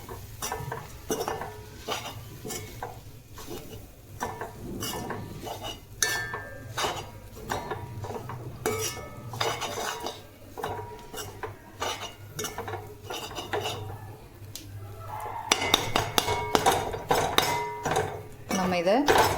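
Egg kothu chapathi being mixed and chopped in a pan, with repeated sharp metal clinks and scrapes of a utensil against the pan in an irregular rhythm, close and fairly loud, under a steady low hum.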